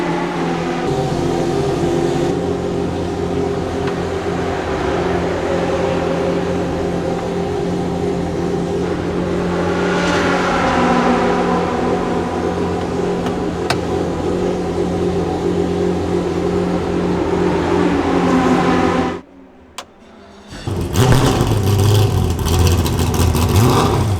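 Mosler MT900 R race car at the Gulf Historic, its engine droning steadily and loud with rising revs, then cutting out abruptly to near silence before roaring back close by.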